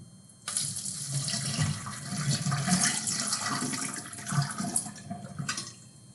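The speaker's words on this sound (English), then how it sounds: "you'll just pour some boiling water down the drain to clear up this mixture that we just made" Boiling water gushes down a drain over a homemade cleaning mixture, a sudden loud pour that starts abruptly, keeps splashing and gurgling for several seconds, then tapers off. No one speaks.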